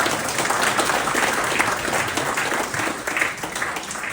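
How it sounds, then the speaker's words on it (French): An indoor audience applauds a speaker at a health talk: dense, steady clapping from many hands, filling the room evenly without pause throughout. "vous pouvez l'applaudir et le remercier"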